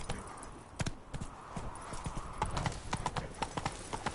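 Hooves of Geralt's horse Roach from The Witcher 3 beat out a rapid, rhythmic gallop in the Blood and Wine expansion, clear and fairly close over faint game ambience.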